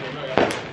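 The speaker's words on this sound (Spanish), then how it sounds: "la tronadera de cohetes" A single sharp firework bang at a Christmas family gathering bursts out over a steady background of voices and crackle, followed by a brief high fizz.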